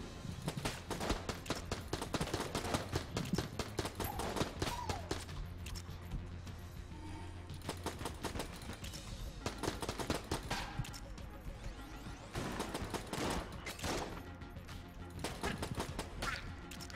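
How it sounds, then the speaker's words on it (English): Rapid bursts of nail gun fire from the video game Enter the Gungeon, a dense stream of sharp repeated shots through most of the clip, loud and close, with other game sounds mixed in. "Is this a staple gun? It's a nail gun."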